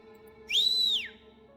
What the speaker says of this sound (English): the other delinquent in track pants made a loud whistle